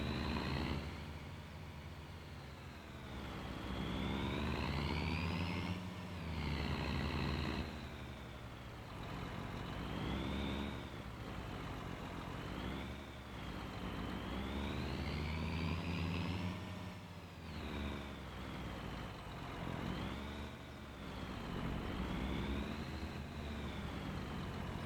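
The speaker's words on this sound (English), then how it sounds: "I kind of forgot how loud this truck actually is." A loud truck engine in the video game Farming Simulator 25 revs up and down in repeated swells, its rising and falling whine cycling steadily and close, with no talking.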